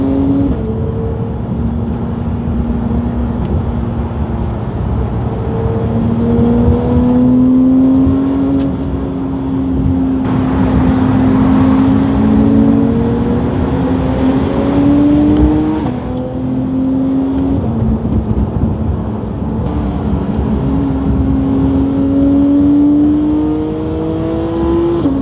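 Several Porsches drive along a road, a close, loud engine note rising and falling through repeated gear changes and accelerations for an extended stretch without speech.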